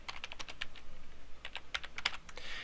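Quiet, close keystrokes on a computer keyboard while typing a document in Word 2010, in quick irregular bursts with a short pause midway and a few sharper key hits.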